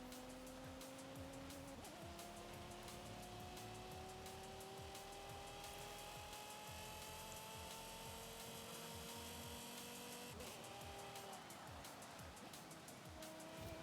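A car engine in the racing game Forza Horizon gives a harsh, saw-like grinding whine, rising in steady pitch sweeps with one drop near the start and another near the end, continuous and alone.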